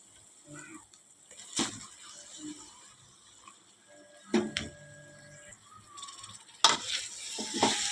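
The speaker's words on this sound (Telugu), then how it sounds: "దీన్ని ఇప్పుడు మనం ఆ తాలింపులోకి వేసుకోవాలి." Cut gongura leaves drop into hot oil tempered with ginger paste for gongura mutton, giving a quiet sizzle broken by a few sharp clatters of utensils against the pan.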